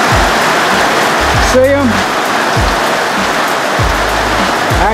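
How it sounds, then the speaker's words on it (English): Heavy rain pouring down outdoors in a pasture where alpacas live, a loud dense hiss filling everything from start to finish, with a person briefly speaking under it. "It's raining so hard I can't zoom in on them."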